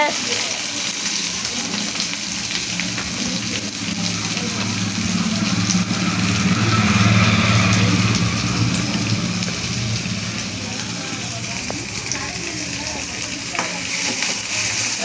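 Onions sizzle steadily in a hot pan, a continuous loud frying hiss with occasional stirring.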